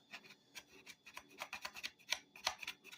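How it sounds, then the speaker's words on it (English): A Buck 104 Compadre knife carves fine shavings from wood, giving close, scraping rasps in short uneven strokes with a few sharper ticks, heard alone without talk. "you can dig in with this, make yourself fine little shavings"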